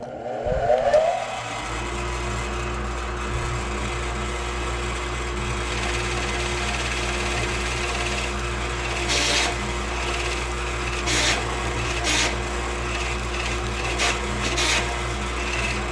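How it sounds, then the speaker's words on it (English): A dull Forstner bit bores into wood on a drill, flinging chips, over a steady mechanical drone with a rough, rasping grind that continues for the whole stretch. "Apparently I have a dull Forstner bit."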